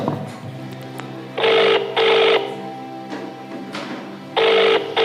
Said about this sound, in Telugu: సరే ఇప్పుడు సారాకు ఫోన్ చేద్దాం.